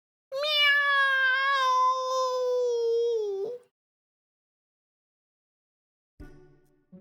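A long, drawn-out meow with a steady, wailing tone lasts about three seconds, then silence and a brief faint rustle.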